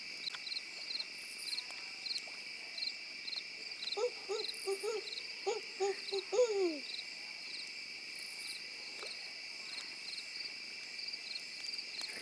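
Owl hoots at night beside a full-moon bonfire, a short run of soft, low calls heard from a distance over a steady chorus of crickets and insects.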